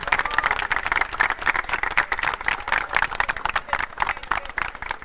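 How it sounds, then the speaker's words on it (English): A crowd claps steadily throughout at a robotics competition final, the ABU Robocon 2023 in India, with dense, continuous applause from many hands and no one speaking over it. "Come on, clap for yourselves, guys."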